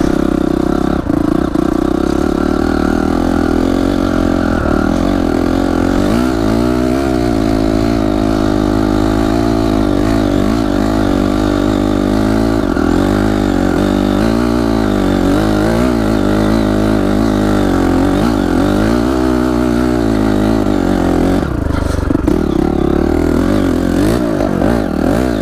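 A Honda CRF enduro motorcycle engine runs loud and close throughout, revving and accelerating with a rough, throbbing drone and some mechanical clatter, with no talking.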